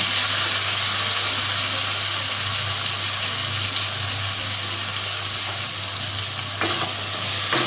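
A spiced banana flower and prawn mixture with ground tomato and turmeric is stirred in a pan, giving a dense steady sizzle with a low hum beneath and a few faint clinks near the end.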